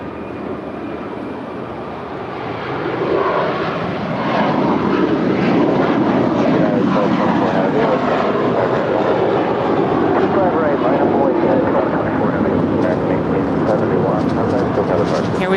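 American Airlines A321, eight years old, on its departure run at LAX bound for Charlotte: a broad, steady jet roar that swells after a few seconds and holds loud and continuous, with people talking underneath.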